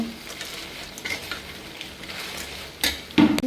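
A spoon stirs potato french fries chilli in a pan, giving a low sizzle with intermittent scraping and clinks of metal, ending in a couple of louder knocks against the pan.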